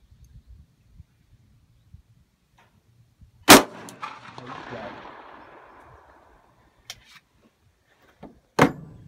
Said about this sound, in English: I was trying to shoot the left side of it